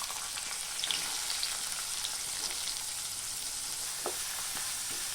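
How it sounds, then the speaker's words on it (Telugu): Onions and cumin fry in oil in a pan, giving a steady close crackling sizzle with small pops and occasional stirring scrapes throughout. "ఈ ఆనియన్స్ను కొంచెం సేపు వేయించుకోవాలి."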